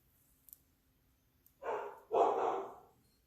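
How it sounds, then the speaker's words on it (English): Two deep barks from a dog, close by, in a quiet room with a couple of faint clicks earlier. "my dog is barking"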